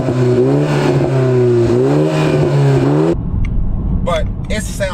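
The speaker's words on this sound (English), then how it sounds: "you put it in sport mode and you start revving it, it burbles like crazy" A 2020 BMW G20 330i xDrive in sport mode, engine revving in loud rising and falling sweeps, then dropping off into crackling, popping exhaust burbles up close.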